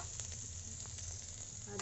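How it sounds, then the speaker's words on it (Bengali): Chopped onion with freshly added minced ginger frying in a pan for an egg masala bhurji, a soft, steady sizzle with a few faint stirring clicks, no talk. "এই দেখুন পেঁয়াজটা একটু ভাজা ভাজা হয়ে এসছে, এর মধ্যে আমি এই আদা কুচি দিয়ে দিলাম"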